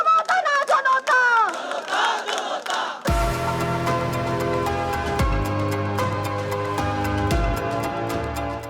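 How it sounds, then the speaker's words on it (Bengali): A protesting crowd chanting slogans to demand a ban on the Awami League, loud and massed, with rhythmic shouted voices that swell into a sustained roar backed by drum-like thumps. "আওয়ামী লীগ নিষিদ্ধের দাবিতে স্লোগান দিতে থাকেন তারা।"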